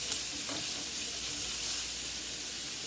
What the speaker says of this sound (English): Okay, I'm gonna saute this